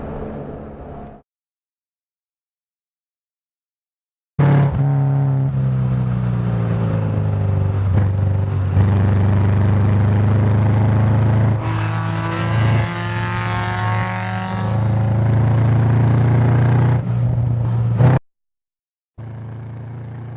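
A Subaru Legacy Wagon engine roars at high revs on a race track at High Plains Raceway, with steady drone and gear-shift dips, loud and close, cutting out abruptly between sections.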